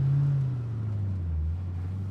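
A car pulls up with its engine running, a steady low rumble that dips slightly in pitch as it slows, heard alone and fairly close.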